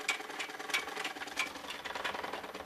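Sewing machine stitching dresses runs steadily and close, a continuous rapid mechanical chatter with sharp periodic clicks, no voices over it.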